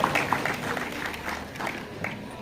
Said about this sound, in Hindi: पंडित राजेश शर्मा जी को जितनी बधाई दें, उनके सम्मान में आप ताली बजाएं, वो सब बहुत कम है।